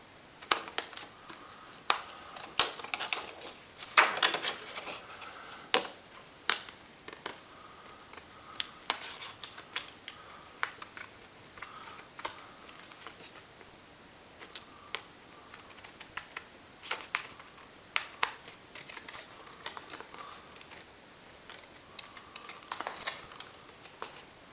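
Scissors snipping out a window in a card topper for a shaker card, giving a string of quiet, close, irregular clicks and short cuts with no voices.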